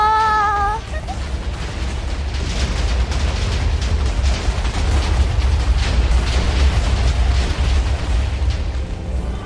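An explosion in the video game Brutal Legend bursts out as a long, loud rumbling blast with crackling debris that roars on for several seconds after a brief tonal sound.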